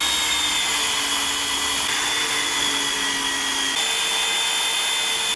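A power drill whines steadily at close range, drilling holes for rivet nuts during an electric Viper conversion, a high-pitched motor hum that shifts pitch partway through as it bites.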